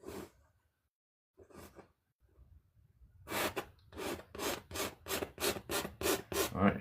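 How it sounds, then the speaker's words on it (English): Thick wet oil paint is scraped off a landscape canvas in short rasping strokes, a few hesitant scratches first and then a quick, even series of about ten loud scrapes, close and alone. "just scratching out any heavy paint so when I come back in, I can lay my own paint in there"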